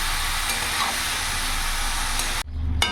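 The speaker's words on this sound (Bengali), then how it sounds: "ভালো করে নাড়াচাড়া করে নিলাম।" Chopped spinach being stirred as it fries in a pan, a continuous loud sizzle with scraping stirs that cuts off abruptly near the end, followed by a low hum and a final clatter.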